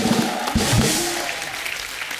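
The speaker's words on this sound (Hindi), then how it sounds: "अनुपम सर के लिए जोरदार ताली हो जाए।" Studio audience at a Hindi comedy show applauding Anupam Kher, a loud continuous wash of clapping with some low voices mixed in near the start, easing slightly as it runs.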